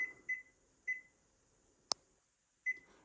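A kitchen timer being set for 30 minutes gives a few short, quiet electronic beeps spaced apart, with one sharp click in between, in a calm kitchen.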